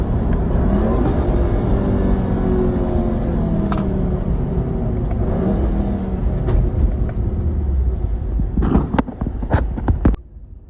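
A 2014 Volkswagen GLI's engine drones loudly from inside the car while downshifting on back streets, with rumbling revs that rise and fall and a few sharp clunks near the end before it quiets.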